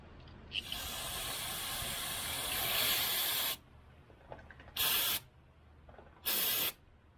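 Cleaner is sprayed onto a Dodge Ram oil pressure sensor connector: one long, loud aerosol hiss, then two shorter bursts separated by pauses, all close up and without speech.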